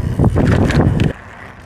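A Bulls Vuca electric mountain bike rattles down a short flight of small stairs outdoors, a loud burst of bumps and clatter over about a second, then a sudden drop to quiet wind noise.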